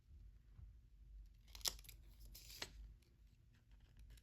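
Scissors cut through photo card stock for an earring, faint and close, with two sharp snipping crunches standing out against quiet background rustle.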